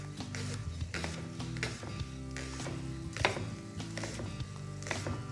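Knife chopping through a leek on a cutting board, a steady run of sharp close knocks repeated about every half second or so over a low musical bed.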